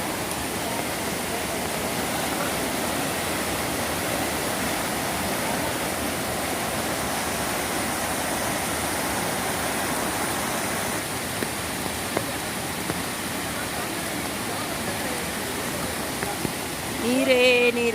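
The flooded Palguni river rushes past in a strong, steady roar of churning water, loud and continuous throughout, with a brief clatter of nearby handling noise near the end.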